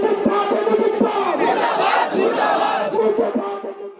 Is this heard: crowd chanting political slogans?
yes